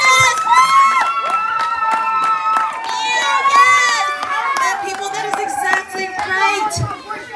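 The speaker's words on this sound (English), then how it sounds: "Clap it up for assertiveness!" A lively crowd of children shouting and cheering with scattered clapping, loud and continuous throughout.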